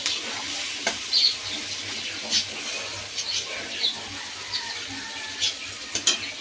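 Chopped onion sizzles in a hot pan, a soft, steady frying hiss broken by occasional stirring clinks and scrapes, close and fairly quiet.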